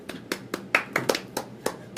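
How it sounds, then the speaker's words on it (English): A small group of hands claps in a radio studio, about nine sharp, separate claps in a loose, uneven rhythm over two seconds, close and fairly quiet. "So we'll clap for you."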